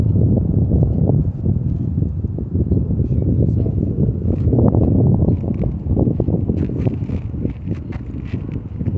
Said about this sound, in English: I just need this wind to stop a little bit